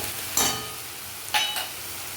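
Ground turmeric, chilli, Kashmiri chilli and garam masala frying in a pan for a taro, banana flower and prawn curry, two short scraping stirs over a low steady sizzle.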